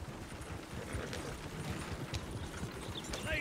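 Horse hooves clip-clop in the Red Dead Redemption 2 video game as a called horse trots over, a quiet, uneven patter of steps with no talk.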